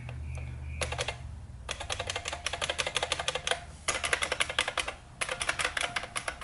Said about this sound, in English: You see me typing background.